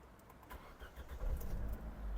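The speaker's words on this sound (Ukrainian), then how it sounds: "Запустимо двигун." A 2009 Opel Zafira with a 1.6 petrol/gas engine being started, a short crank followed by the engine catching and rising into a low steady run, close up and fairly quiet.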